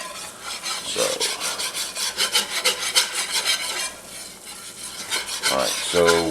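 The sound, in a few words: stirring a roux of oil and flour in a pot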